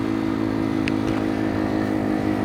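A Kuba Race 125 motorcycle engine drones at a steady, close, loud pitch while riding along a sandy beach route near Ayvalık, a continuous hum with no talk.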